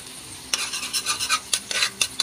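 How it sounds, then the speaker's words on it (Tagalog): Garlic sizzling in hot melted butter in a frying pan, a close hiss broken by several scraping stirs of a utensil against the pan over about two seconds. "Mainit na po ang ating butter kaya lagay na po natin ang ating bawang."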